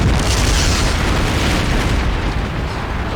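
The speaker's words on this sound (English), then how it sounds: "Just look at that explosion." A massive explosion in the video game Metal Gear Solid produces a loud, dense roar of blast noise. It fills the whole stretch and fades only slightly toward the end, with no talking over it.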